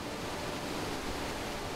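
The Deschutes River flows in a steady, even rush of water with no breaks, moderately quiet and close, with no voices.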